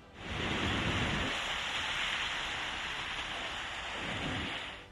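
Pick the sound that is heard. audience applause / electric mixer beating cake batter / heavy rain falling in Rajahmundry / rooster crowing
heavy rain falling in Rajahmundry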